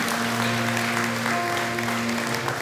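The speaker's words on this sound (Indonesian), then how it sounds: "Berikan tepuk tangan buat Tuhan" A church congregation applauds at a sermon's call to clap for God, a steady dense wash of clapping with a sustained musical tone beneath it.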